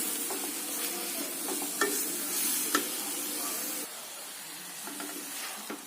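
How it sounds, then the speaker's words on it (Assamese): A spatula stirs jaggery and coconut in a kadai for Assamese gur narikol laru, a steady soft sizzle with scraping strokes and a few sharper clicks against the pan, close and continuous, no talk. "এতিয়া লাহে লাহে লৰাই থাকিম"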